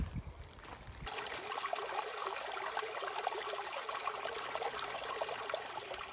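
Steady broadband rushing of creek water flowing continuously, moderately close, with no voices, in near-freezing weather; a faint lower rumble at the very start before the flow fills in.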